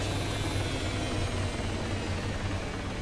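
A military helicopter in the video game Arma 3 drones loudly and steadily, with a throbbing low rotor beat under a broad whooshing engine roar. It carries on without pause and with no voices.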